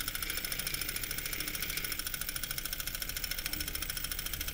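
A small Stirling engine runs fast in a rapid, even mechanical chatter that holds steady and close, with no one talking.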